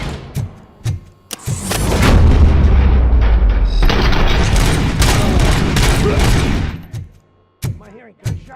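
Loud booming gunfire fills a combat scene in the video game Robocop Rogue City, with separate heavy shots at first, then a dense sustained barrage before it cuts back to a few isolated thumps.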